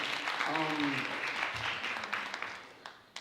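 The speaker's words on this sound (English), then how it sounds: "Round of applause for that answer." Short round of applause during an interview, clapping under a voice at first that then fades to a few scattered claps.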